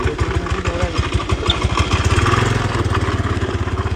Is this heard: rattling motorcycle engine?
yes